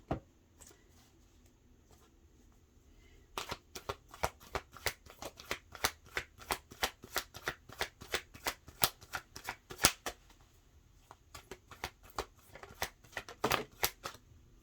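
Oracle cards being shuffled by hand at close range, a quiet start giving way to a long run of quick, crisp riffling flicks and snaps, with no talking.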